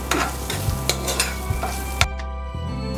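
Spices, ginger and garlic fry in hot ghee for ghee rice, a steady close sizzle broken by several sharp clinks and scrapes of a spoon stirring the pan, with a low hum beneath.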